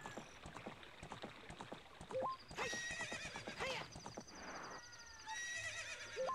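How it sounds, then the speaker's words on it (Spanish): Epona, the horse in the video game Zelda Ocarina of Time, neighs and whinnies several times over quick clip-clop hoofbeats, with game chimes and effects mixed in, fairly close and clear with no talk. "Y el caballo."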